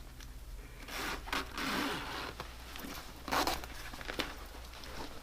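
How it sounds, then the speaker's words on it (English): A recessed zipper on a sewn fabric tote bag is zipped up, close rasping zip strokes in short bursts with fabric rustling and handling between them. "then zip up that zipper, and I will have a really gorgeous bag with a recessed zipper."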